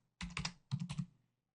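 A username typed on a computer keyboard while managing user permissions on a DotNetNuke website: two close, quick bursts of key presses separated by a brief pause, with no voices.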